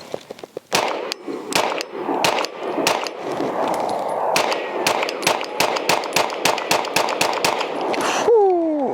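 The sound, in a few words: ZEV OZ9 Hypercomp pistol firing 124 rounds with weapon light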